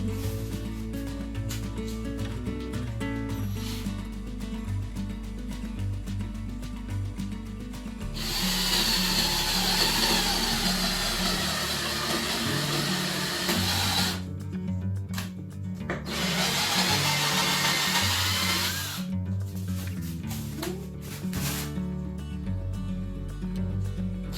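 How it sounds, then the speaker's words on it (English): A power drill whines loudly in two long bursts, biting into a wooden dresser drawer, with quieter mechanical shuffling and rubbing between and around the runs. "And then I'll go ahead and drill it."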